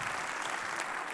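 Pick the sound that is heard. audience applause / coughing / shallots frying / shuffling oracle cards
audience applause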